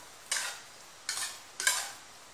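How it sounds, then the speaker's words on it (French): Steamed couscous semolina is fluffed with a whisk in a bowl, three short soft scraping swishes spaced apart, close and quiet with near silence between strokes. "Et je l'ouvre avec le fouet comme ça, avant de la dresser dans l'assiette."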